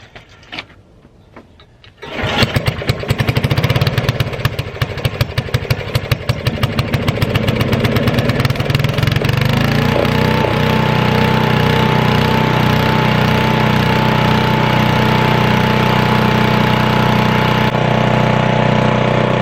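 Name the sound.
Weldanpower 150 welder/generator engine starting and running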